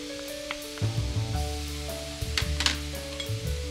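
Chicken browning in a hot pan gives a steady, close sizzle, broken by a few louder crackling bursts and utensil scrapes, with no voices.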